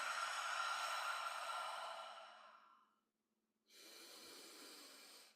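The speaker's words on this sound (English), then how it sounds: "Take a couple breaths." A slow, steady breath drawn and let out through the nose during a gentle lymph drainage exercise, with a long hissing stream that fades, a brief pause, then a second breath starting, close and soft with no talk.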